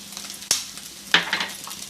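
Carrot and cabbage frying in a pan for egg fried rice, with a soft background sizzle broken by two sharp stirring scrapes close by.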